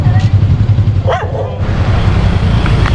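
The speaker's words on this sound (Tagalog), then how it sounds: "Oh, may aso. Oh, galit sa'yo." A dog barks angrily a few times amid a noisy outdoor beach-trip scene in Calatagan, Batangas, with a low rumble and background chatter.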